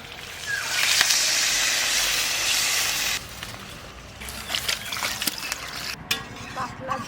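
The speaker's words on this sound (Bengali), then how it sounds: "এবার ঝোলের জন্য জল দিই।" Spiced curry with fried potatoes for a thin magur catfish broth sizzles and hisses loudly for about three seconds, then falls quieter as water goes in, leaving soft bubbling and occasional light clinks.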